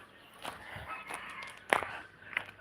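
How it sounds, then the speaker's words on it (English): Garden chickens cluck and call in scattered bursts, with one louder sharp squawk near the end, close by over a quiet outdoor background. "Right now I have to prepare for the chicken feed for our chickens"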